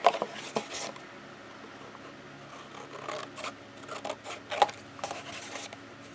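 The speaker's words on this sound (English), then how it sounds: "grab a scissors and cut along those lines that you just penciled in" Scissors cut paper along penciled lines, giving quiet, intermittent snips and rasping slides spread over several seconds, with no voices.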